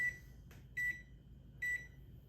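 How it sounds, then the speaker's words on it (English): A kitchen timer being set while baking sesame and black rice bread, giving two short electronic beeps with a quick button click before them, faint and close in a quiet room. "I'm going to set my timer for 40 minutes"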